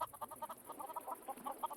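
Chickens cluck repeatedly in the Minecraft modpack DawnCraft, a busy run of short, chirpy game clucks with no talk over them.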